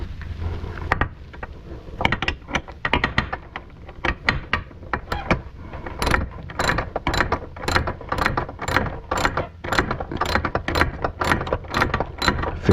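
Ratchet wrench tightening exhaust bolts on a 2021 Can-Am Ryker Rally during a Treal Performance exhaust install, a long run of close, loud, rapid mechanical clicks that grows more regular and evenly spaced in the second half, with no talk.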